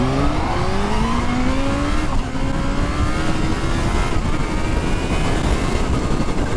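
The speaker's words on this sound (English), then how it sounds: "I'm going to pin it in first gear and let the traction and anti-wheelie sort itself out." A supercharged Kawasaki Z H2 motorcycle accelerating hard in first gear, engine pitch climbing steadily in loud, close, sustained revs with a brief shift-like dip, no talking.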